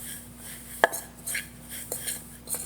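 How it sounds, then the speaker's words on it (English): Cheese being mixed into a cauliflower pasta casserole, heard as a few sharp scrapes and clinks of a utensil against the dish, one louder knock near the start, over a faint steady hum. "And then I'm mixing in the cheese."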